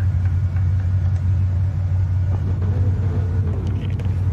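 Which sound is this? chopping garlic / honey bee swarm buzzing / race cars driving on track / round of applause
race cars driving on track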